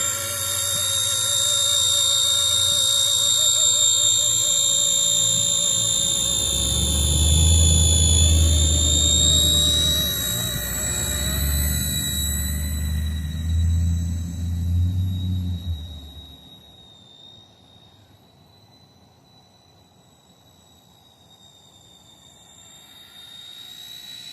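The motor of an RC ERA 206 model aircraft runs with its propellers spinning, giving a steady high whine over a low rumble. After about sixteen seconds it drops to a softer, thinner hum.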